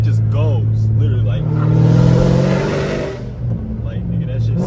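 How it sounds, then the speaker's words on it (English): Car engine revving up and pulling hard with quick throttle response, rising to a loud peak near the middle then easing off, heard from inside the cabin with a voice talking over it. "Throttle response on this car now is crazy. Like, it just goes, literally,"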